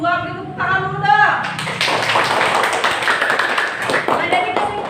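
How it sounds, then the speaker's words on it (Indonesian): A classroom full of students claps together, a dense burst of applause that starts after a moment of voices and keeps going steadily to the end. "Beri tepuk tangan dulu dah."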